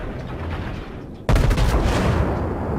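Main battery guns of the battleship König in the naval video game World of Warships, heard as a loud, sudden salvo blast that cuts in midway and rumbles on with a rolling roar after a quieter stretch of engine noise.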